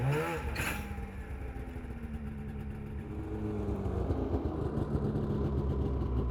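A snowmobile engine runs steadily at a low idle with a fuel additive mixture being drawn through, a continuous mid-pitched rumble that grows slightly louder and rougher toward the end, with no talk.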